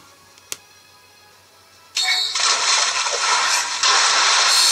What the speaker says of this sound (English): Slap down the Water Dragon Jutsu.